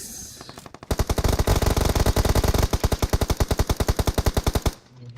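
Automatic gunfire from the BGMI mobile battle royale game: long, loud, rapid bursts of evenly spaced shots roll on for several seconds without pause, then stop abruptly, with no talking over them.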